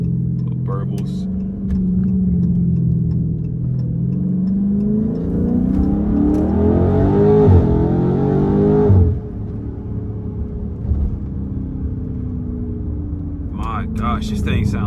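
A straight-piped Dodge Challenger or Charger Scat Pack V8 heard from inside the cabin, with a deep exhaust rumble that swells into a rising rev and then drops off into light burbles, while the driver talks over it.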